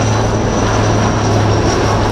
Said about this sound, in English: you can now see the advanced light helicopters Mark IV of the Indian Army, known as the Rudra.